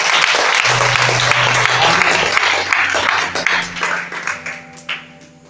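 Loud crowd applause and clapping from a church congregation during a sermon, dense at first and thinning out toward the end, with a sustained keyboard tone underneath.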